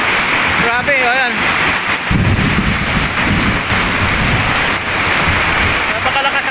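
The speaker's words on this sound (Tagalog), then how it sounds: "malakas ang ulan dito ngayon sa amin" Heavy rain pours down at a work site in the Philippines, a loud, dense, unbroken hiss close by, with brief bits of a voice speaking over it near the start and end.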